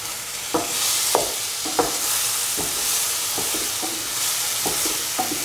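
A tomato mixture being stirred into a paste in a hot pan for mutton kofta curry, a steady close sizzle punctuated by a series of distinct spoon scrapes and taps, with no voices.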